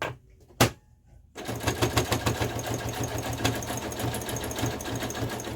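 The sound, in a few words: sewing machine with ruffler foot sewing skirt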